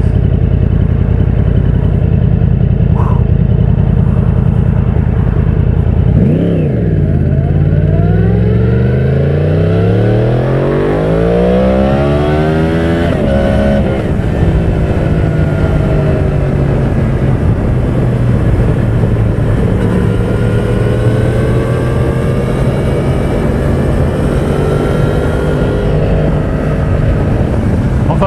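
A Yamaha YZF 1000 R1 accelerates hard through its gears on a track, the loud engine note sweeping upward repeatedly before settling into a steady high-speed drone with wind rush.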